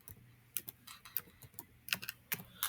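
Typing on a computer keyboard in an office app: quiet, irregular key clicks tapped in short bursts, close and clear with no talk.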